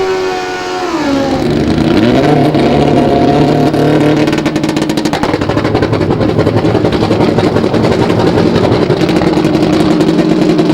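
A Pro Stock drag racing motorcycle at a 2002 AMA Prostar championship roars at full throttle, its engine note climbing and staying loud and dense through the whole run, close and overwhelming.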